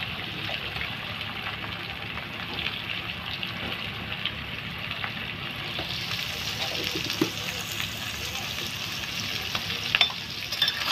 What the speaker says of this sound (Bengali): হলুদ লঙ্কা দিয়ে লবণ দিয়ে আলুটাকে কষিয়ে নিয়েছি।